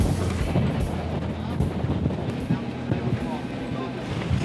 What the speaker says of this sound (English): Plenty of wind here.